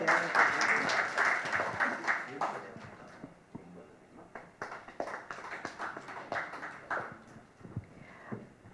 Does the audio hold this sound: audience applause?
yes